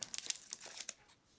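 The foil wrapper of a Magic: The Gathering Gatecrash booster pack crinkles and tears close up in a short flurry of sharp rustles, then settles into a faint softer crinkle, with no speech.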